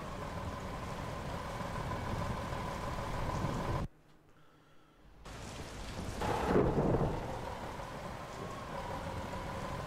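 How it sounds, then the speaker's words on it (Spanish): Rain and thunder ambience in the video game Demolish & Build Company 2017: steady loud rainfall with rumbling thunder, a brief near-silent gap midway, then a heavier thunder swell before the downpour settles back to a constant hiss. "con esta lluvia no se puede trabajar, hombre"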